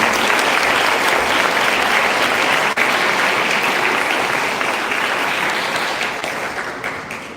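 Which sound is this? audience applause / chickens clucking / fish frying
audience applause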